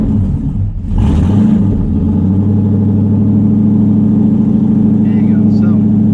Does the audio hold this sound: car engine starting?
yes